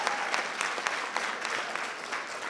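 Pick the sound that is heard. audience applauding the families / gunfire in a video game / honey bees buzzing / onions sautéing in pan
audience applauding the families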